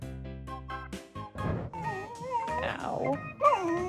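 Dog trying to rouse its sleeping owner, giving a few high, wavering whimpers and short yips at close range, with a voice talking underneath.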